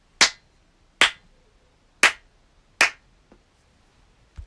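Four single hand claps in a small, low-ceilinged former drum room, spaced about a second apart and followed by a faint fifth, each sharp and close with a brief fluttery ring after it.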